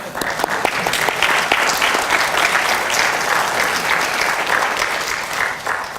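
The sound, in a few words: applause at MBA graduation ceremony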